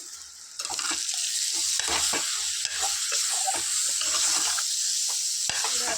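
Tamarind leaf egg curry with masala and salt stirred in a pan: repeated scraping strokes over a continuous hiss and sizzle, close and fairly loud.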